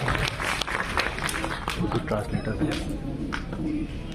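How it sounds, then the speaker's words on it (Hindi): A mushaira crowd claps steadily to welcome a poet, dense applause filling the hall throughout, with voices mixed in. "जोरदार तालियों से इस्तकबाल करें नाहिद फिरदौस साहब"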